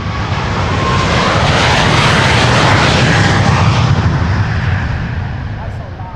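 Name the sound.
KLM Boeing 777-300 jet airliner taking off, loud engines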